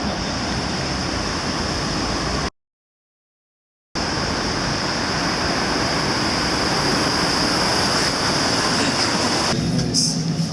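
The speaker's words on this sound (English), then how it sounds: "we are on the tram." Tram running on rails on a rainy day, heard from inside as a loud, steady broadband rumble and rattle with a brief dropout and high wheel hiss toward the end.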